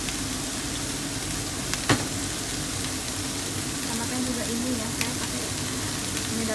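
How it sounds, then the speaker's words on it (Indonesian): Vegetables stir-frying in a pan for steamed bun filling, giving a steady, dense sizzle with a few brief clinks of a utensil stirring, and no talk over it. "Setelah sudah harum, baru masukkan sayurnya."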